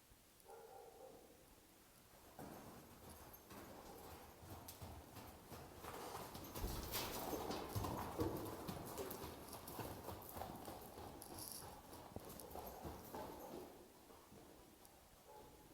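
Hooves clip-clop steadily on hard ground as horses walk past, a continuous rhythmic clatter that swells louder in the middle, with no talking.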